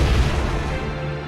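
A deep, booming explosion from the video game Naruto Shippuden: Ultimate Ninja Impact, loud and heavy with a rumbling low-end tail that fades slowly over about a second, with no voices.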